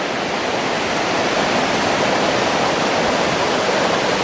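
The Kanjirappuzha river near Munnar flows strongly, a dense, even rushing roar of fast water that fills the scene without pause.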